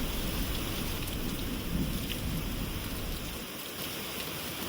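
Steady heavy rain pours down as a dense hiss, with a low rumble of thunder rolling underneath.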